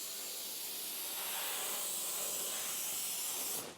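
Mitre glue activator sprays in one continuous, close hissing burst onto stair wall paneling and cuts off sharply near the end.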